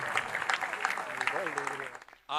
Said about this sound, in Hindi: जोरदार तालियां से आप हमारे बता।